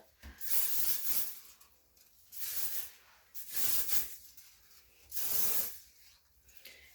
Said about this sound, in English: I just kind of spray that all over the hair